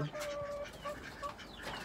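Chickens in a rooftop garden cluck softly at close range in a few short calls, faint and alone.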